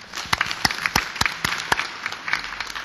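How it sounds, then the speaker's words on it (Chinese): Applause from a gathered audience at a local council meeting, a thin scattering of sharp, distinct claps at an uneven rhythm, moderately loud, no speech. "大家掌声欢迎哈！"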